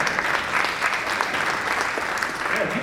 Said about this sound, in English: you can always applaud for trombones